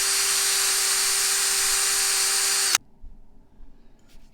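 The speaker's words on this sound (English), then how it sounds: "So into the drill, 220 sandpaper, a little more aggressive" A power drill spinning a model nail against 220-grit sandpaper whines steadily with a high, gritty grinding for a few seconds, then cuts off abruptly into quiet room noise.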